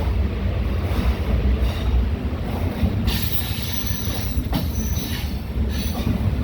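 A train rolls into a railway junction at Pettai with a steady rumble of wheels on track, rising into a loud, continuous roar with bursts of metallic squeal.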